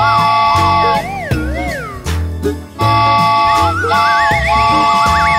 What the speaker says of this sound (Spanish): El silbato en el tren hace chu chu chu